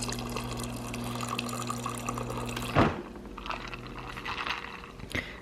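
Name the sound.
water poured into a glass of iced espresso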